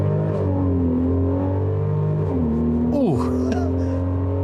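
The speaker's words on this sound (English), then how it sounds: "I do want to try just a standing start acceleration here." A Mercedes-Benz GLC Coupe on winter tires pulls away from a standing start, its engine droning steadily, then rising and dipping sharply as it shifts, with a brief exclamation from the driver.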